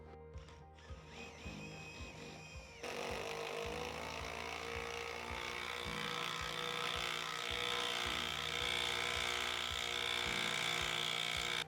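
An impact driver with a right angle attachment drives a half-inch lag screw into untreated 6x6 wood without a pilot hole, hammering in a rapid, loud, continuous rattling stream that intensifies after a brief start.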